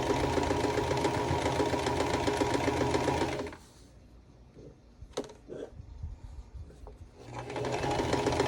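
A sewing machine stitching a quilt block runs loud and steady, stops for a few seconds of quiet handling clicks and rustles, then starts stitching again.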